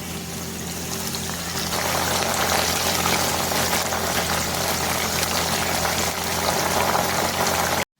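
Steady, loud sizzling and bubbling of sliced raw banana deep-frying in hot oil for chips, continuous throughout with no talking.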